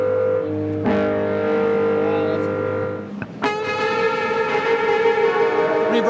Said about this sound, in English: it's going to go from full reverb to full dry